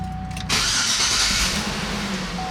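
GMC Yukon truck engine cranking over with the key and catching, a sudden loud roar settling into a steady idle, close up with no talking.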